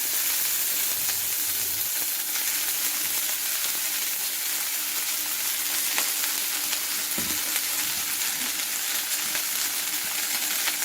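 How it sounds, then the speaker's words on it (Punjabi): Garlic cloves and chopped fenugreek roast in hot oil in a pan, giving a steady, close sizzle throughout with a brief soft knock partway through. No one speaks. "ਇਸ ਦੇ ਨਾਲ ਹੀ ਮੈਂ ਕੱਟੀ ਹੋਈ ਜਿਹੜੀ ਆ ਮੇਥੀ ਐਡ ਕਰ ਦਿੱਤੀ ਹੈ"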